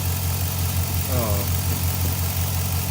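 A truck engine idling steadily after spark plug work, a continuous low throbbing hum close to the microphone, with a voice briefly speaking over it.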